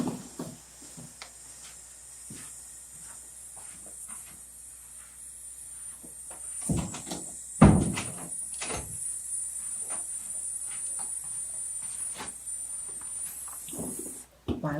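A front door in an ASMR fortune teller shop creaks and is shut and locked, with a sharp clunk of the latch midway, surrounded by soft rustling and a steady high hiss.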